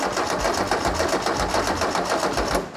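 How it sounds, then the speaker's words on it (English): A cheap VW engine is cranked by its starter motor, giving a loud, steady, fast rhythmic churning that continues unbroken throughout. "So if I give that another go and hold it, we should be turning the engine right now."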